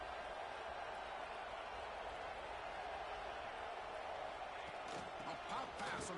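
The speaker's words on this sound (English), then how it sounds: "This crowd is trying to inspire this defense to make a big red zone stop." A stadium crowd at an Ohio State football game roars continuously and densely, a loud sustained wall of cheering with a commentator talking over it.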